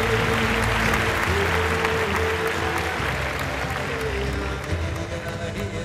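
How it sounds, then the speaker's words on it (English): A graduation day crowd at Government Villupuram Medical College claps for the graduates, giving dense, steady, loud applause that carries on without a break from start to finish. "Please give a round of applause for all our graduates."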